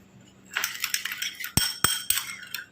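Spoon stirring sugar into juice in a glass, with a quick run of close metallic taps and clinks, a few sharper knocks, and no talk.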